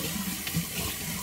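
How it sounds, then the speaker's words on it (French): Cold water runs from a tap in a steady, close splashing rush over a sink, with no talking. "je vais juste mettre un peu d'eau froide"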